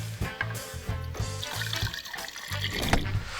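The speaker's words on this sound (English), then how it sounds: "I'm going to take my water, because it's poly resin, and I'm going to fill it" Water poured into a poly resin container, a close, uneven trickle and gurgle with rhythmic low knocks and sloshing, no speech.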